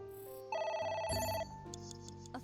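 An electronic phone ringtone plays sustained tonal notes inside the video game AI: The Somnium Files, sounding once clearly and then trailing into softer chimes, alone without talk.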